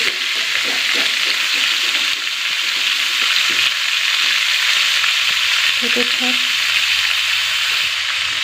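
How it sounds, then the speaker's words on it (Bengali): Salted cauliflower pieces fry in a pan with a loud, continuous close-up sizzle, broken now and then by faint low clatters of stirring. "ফুলকপিগুলো ভাজা হয়ে গেছে ভালোভাবে"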